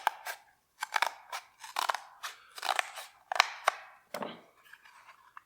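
Scissors snip through a cardboard tube in a string of sharp, crunchy cuts with short pauses between them, close and fairly quiet.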